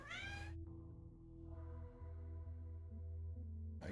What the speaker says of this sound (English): Love my kitty cat.